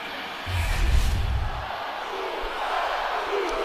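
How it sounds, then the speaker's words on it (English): A crowd chants in a WWE 2K25 video game arena during a Raw brothers' match, a dense roar of voices that swells early and then settles into a sustained, slightly distant murmur. "The crowd chanting Uso, but you don't know which one they're chanting for."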